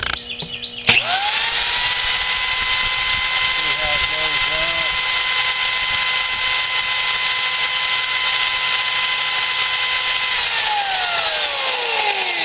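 An electric drill spins up and runs at a steady, loud whine for about ten seconds, then winds down near the end.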